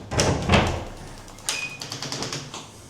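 A door in a Buenos Aires apartment swings open and shut, with a couple of clunks early on, then a latch click and a squeak followed by light rattling and taps nearby.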